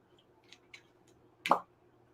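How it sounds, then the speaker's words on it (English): A cork pops from a bottle with a single sharp, loud plop, preceded by a few faint ticks and clicks of handling in an otherwise quiet room. "Let's go for a cork pop."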